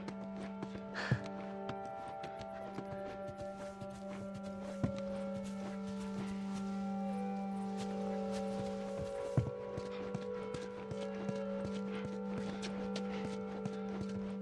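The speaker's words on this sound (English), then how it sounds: "there comes a moment where Ellie finds some giraffes, and it's just, I'll just play it to you" Giraffes in The Last of Us stride along with steady clip-clop hoof steps over a continuous game ambience and a low steady hum, with a few sharper thuds standing out.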